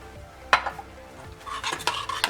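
Melted soap base mixed with almond oil, fresh off a double boiler, stirred by hand in a container: a sharp scrape near the start, then a busier run of scraping and tapping strokes toward the end, close and fairly quiet.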